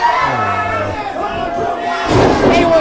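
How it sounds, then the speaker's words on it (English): An indie wrestling crowd in Teaneck roars and cheers loudly at ringside, swelling toward the end, while a commentator talks over the noise. "As the crowd comes alive here in Teaneck, A1G's on a roll."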